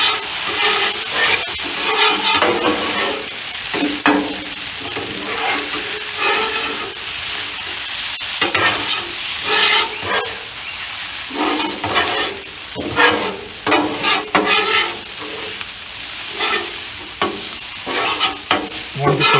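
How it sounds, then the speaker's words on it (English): Rice stir-fries with low sodium soy sauce in a hot pan, giving a loud, continuous sizzle and hiss with repeated scraping and stirring strokes throughout, no talking. "now I am going to add some low sodium soy sauce to the mix here"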